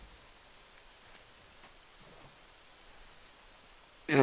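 Rain falls in the video game Minecraft, a soft, steady hiss of faint, even noise throughout, ending with a sudden louder burst at the close.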